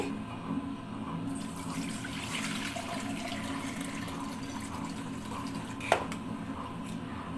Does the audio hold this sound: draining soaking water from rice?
yes